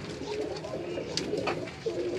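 A female Firozpuri pigeon coos on a rooftop loft in Karachi, low throaty burbling rolls running through the whole stretch, close and fairly loud, with a few faint clicks and rustles around it.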